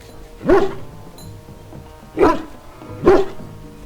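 A hound barks in Dragon Age: Origins, giving three loud, close, separate barks spaced about a second or more apart, with a quiet background between them.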